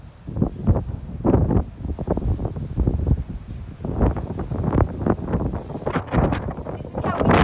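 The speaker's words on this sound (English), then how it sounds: "I'm standing outside, it's so windy." Strong gusty wind buffeting an outdoor microphone on a hot windy day with bushfires nearby, loud irregular rumbling gusts throughout, with a person talking over it.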